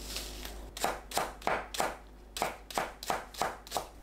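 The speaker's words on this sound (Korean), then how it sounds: "파는 작게 썰어줍니다." A knife chops scallions on a cutting board in crisp, close, fairly regular strokes, about nine firm thwacks over a few seconds with short pauses between them.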